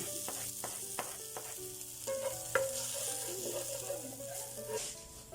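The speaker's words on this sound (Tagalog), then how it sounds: "naluluto na yung ating bawang at sibuyas" Chopped garlic and onion sizzling in a hot pan, a steady close frying hiss with a few light clinks of a utensil stirring.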